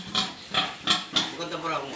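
Pigs on a farm give a run of about six rough, evenly spaced grunts, close and fairly loud, with voices in the background.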